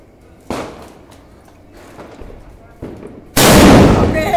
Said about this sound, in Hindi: लग रहा है चॉकलेट बम फोड़ रहा है